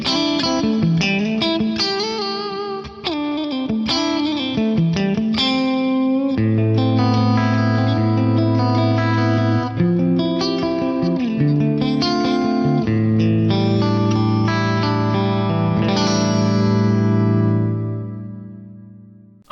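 Clean electric guitar played through a large plate reverb with almost three seconds of decay, a long pre-delay and a 30% mix, sounding loud and alone as chords and notes ring out into a broad, lingering wash.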